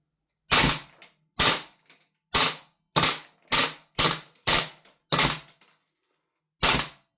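Lambda Defence GHM9 Gen2 gas blowback airsoft rifle firing in short full-auto bursts, about nine sharp cracking bursts with brief pauses and a longer gap before the last, loud and close with no talk.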